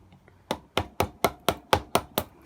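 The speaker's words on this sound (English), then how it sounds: "You can hear I'm not really trying to really hit it hard with the mallet. I'm just light taps." Light mallet strikes on a chisel carving wood for a feast tray, about nine crisp, evenly spaced taps at close range, each a short sharp knock with a quick decay.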